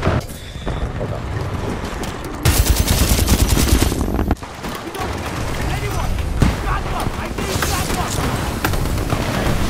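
Rapid sustained laser gunfire in the shooter Titanfall 2, loud bursts of automatic fire and booms crowding the mix for nearly ten seconds, with players talking over the shooting.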